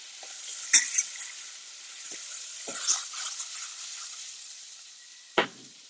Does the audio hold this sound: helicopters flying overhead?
no